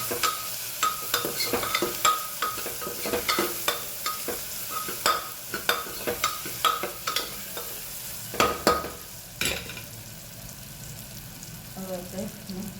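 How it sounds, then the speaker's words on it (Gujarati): Bottle gourd and turmeric being stirred in a pan, a steady series of close scraping and clattering strokes over a low sizzle, with a few louder knocks near the end. "સાથે સાથે દૂધી પણ એડ કરી દઈએ, હળદર એડ કરીએ, સરસ મિક્સ કરી દઈએ."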